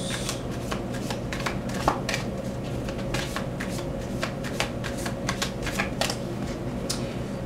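Oracle cards being shuffled by hand: a steady, close riffle of rapid papery flicks and soft slaps running continuously, loud and without speech.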